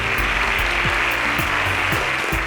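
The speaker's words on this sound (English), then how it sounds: "I think they deserve a round of applause for that." Audience applause at an Interswitch SPAK 6.0 education competition event in Africa, a dense steady wash of clapping held at an even level for a couple of seconds, with a low hum underneath and no voices.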